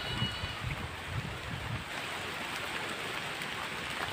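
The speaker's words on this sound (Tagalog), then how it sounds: "Nabot tayo ng ulan." Steady rain falls over a farmyard with animal pens and banana plants, a soft continuous hiss with faint patter, fairly quiet and uninterrupted.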